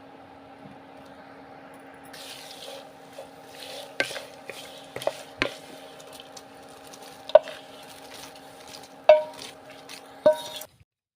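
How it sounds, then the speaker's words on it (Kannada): A spoon stirs and scrapes a tempering into seasoned puffed rice (oggarane puri) in a pan, with scattered sharp knocks against the pot over a faint steady hum. "ಈಗ ಒಗ್ಗರಣೆನ"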